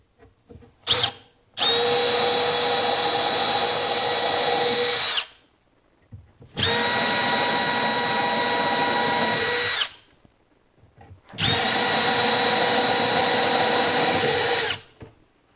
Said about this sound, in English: putting a pre-drill hole in it so that with the stainless steel screw gets into the hickory